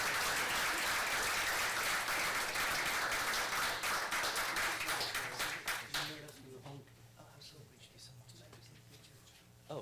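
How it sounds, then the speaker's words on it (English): A room full of people at a Turlock city council meeting gives a sustained round of applause. The dense clapping starts loud, thins into scattered claps after several seconds and then fades out. "Let's give them a round of applause."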